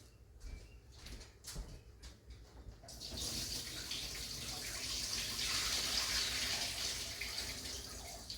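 Water pours steadily out of a bowl of diced apples soaked in lemon water as it is drained in a kitchen, a close, continuous rushing splash after a few faint knocks and clinks.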